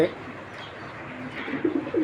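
Racing pigeons coo softly nearby, with low, throaty calls getting stronger toward the end.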